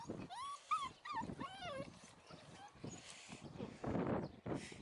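Puppies whimpering and yipping in high, wavering cries, close by, with a person talking softly in the background.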